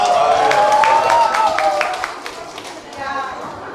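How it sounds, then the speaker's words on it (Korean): Audience applause after a live band performance, a dense wash of clapping filling the first half and fading, with a sustained sung or held tone under it early on. "이렇게 박수 한번 다시 부탁드리겠습니다"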